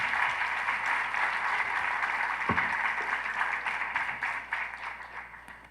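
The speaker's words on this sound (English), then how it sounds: "Ladies and gentlemen, a round of applause for our moderator" Audience applause for a forum moderator at a media freedom and responsibility forum, sustained dense clapping from a large crowd that gradually fades toward the end.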